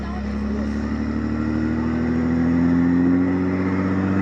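An overland vehicle's engine revs steadily while it climbs onto Maxtrax recovery boards on the salt flats of the Salar de Uyuni, a loud, continuous drone that rises slightly in pitch near the end, with voices in the background.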